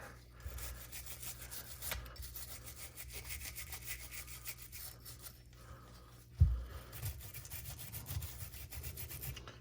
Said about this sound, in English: we're going to scrub on the carrier here.